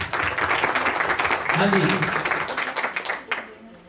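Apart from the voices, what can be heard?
audience clapping loudly at a church gathering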